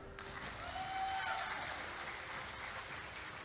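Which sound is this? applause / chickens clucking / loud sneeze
applause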